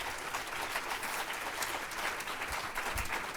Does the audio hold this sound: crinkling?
no